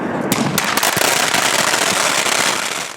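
Fireworks and firecrackers go off during Chinese New Year celebrations in Beijing, making a loud, continuous crackle of rapid bursts with a few sharper bangs standing out.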